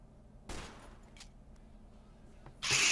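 Gunfire in Team Fortress 2: a sharp shot near the start, a few faint pops after, and another loud blast at the end, with quiet gaps between.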